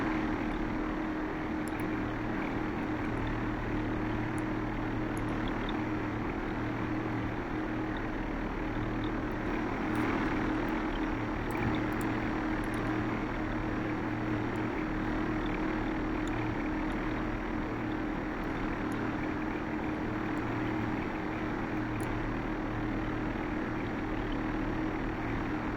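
Inside a light aircraft in steady, straight flight, the engine and propeller make a constant loud droning hum that holds steady throughout, with no voices.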